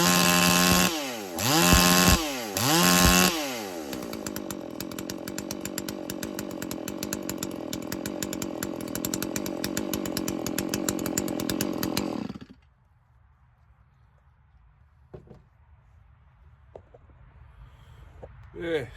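A new chainsaw, running rich after a carburettor adjustment, blips its throttle a few times. It then holds a loud, buzzing high-revving whine for about nine seconds before cutting to near silence with faint handling noises.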